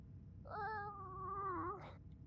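A person imitates a cat, giving one drawn-out, wavering meow that rises and falls over about a second and a half, clear and fairly close, with a faint low background hum and no other talk.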